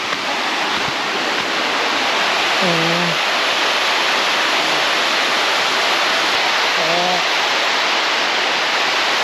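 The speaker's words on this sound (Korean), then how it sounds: "머팽 폭포는 이렇게 생겼다." Mo Paeng waterfall in Pai, Thailand, gives a steady, loud, close rushing roar of falling water that never lets up. Two brief voices can be heard faintly beneath it.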